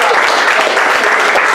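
Dense, loud audience applause for a performer at an escape artistry show, steady and close, with no gaps over the short stretch.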